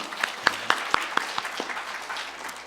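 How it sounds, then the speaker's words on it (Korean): A small church congregation at a Wednesday prayer service claps briefly, a handful of sharp, scattered hand claps that quickly fade, fairly quiet. "이 마음 다시 한 번 더 하나님께 저는 영광으로 박수 올려드리고 싶습니다."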